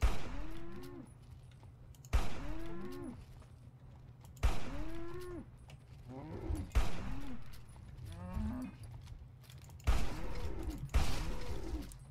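A two-headed mutant brahmin cow in Fallout 3 lows repeatedly, about six deep, drawn-out moos spaced a couple of seconds apart, close and fairly loud, with no talk.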